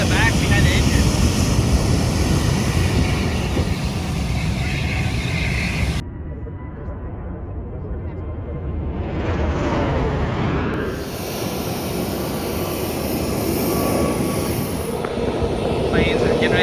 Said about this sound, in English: Planes are getting ready to take off. They're building up.